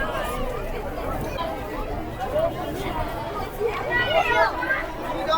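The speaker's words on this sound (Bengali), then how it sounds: "বন্ধুরা দেখো সব ভিড়ভাড় লেগে গেছে।" Dense crowd chatter as passengers push aboard a river launch at a ghat on the Bhagirathi river, a steady babble of many overlapping voices close by with no single speaker standing out.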